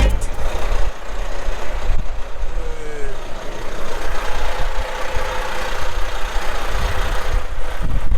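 Heavy trucks stand idling in a long traffic jam on a snowy highway during a snowstorm, a loud, continuous low engine rumble close by with faint beeps and hisses over it.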